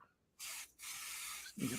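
An aerosol can sprays onto a man's beard in two long hissing bursts separated by a short pause, loud and close, ending in a brief low voice sound.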